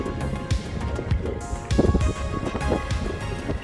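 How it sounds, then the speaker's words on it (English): A brand new Mercury Verado outboard engine fitted with a sport exhaust rumbles close by, a deep throbbing burble with uneven pulses and a brief louder swell midway. "This is the sport exhaust on the brand new Mercury Verado."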